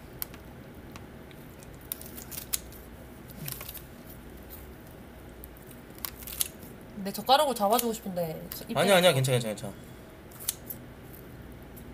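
Scissors snip through food at a shared meal, producing a few crisp, squishy cuts amid steady background noise while people chat nearby.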